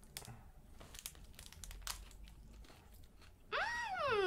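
Crisp, close crunching as a chocolate-coated keto bar with crisps inside is bitten and chewed in several sharp bites, followed by a voice at the end.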